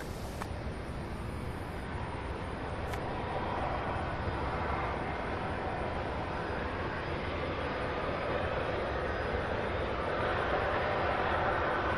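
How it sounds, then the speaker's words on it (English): Aircraft engines at Louisville SDF airport produce a steady distant roar, a broad continuous rumble with no rise or fall, heard without talk. "I hear some engines, but I don't see a pushback or any taxiing yet."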